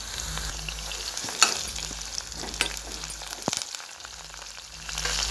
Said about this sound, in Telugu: ఆనియన్ వేసి మంచిగా బ్రౌన్ అయ్యే వరకు వేసుకోవాలండి.